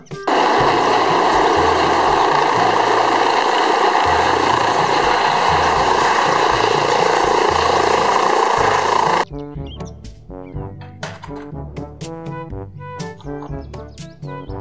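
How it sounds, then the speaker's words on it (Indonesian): A loud, steady helicopter drone with whirring rotor noise fills most of the clip, then cuts off abruptly into a short burst of plucked, tinkling music. "Helikopter"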